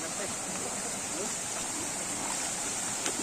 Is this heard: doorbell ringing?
no